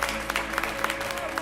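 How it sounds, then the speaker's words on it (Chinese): An audience at a Hakka song and dance show on New Year's Eve claps steadily with scattered sharp individual claps, under a faint sustained music tone, moderately loud and brief. "再来点掌声"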